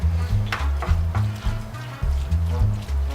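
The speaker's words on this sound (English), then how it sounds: "we are going to add the vegetables that we sauteed, mix them up with the ground beef" Sauteed vegetables are stirred into ground beef in a hot pan, a near, soft sizzle broken by repeated scraping strokes of a utensil, with a low rhythmic hum underneath and no talking.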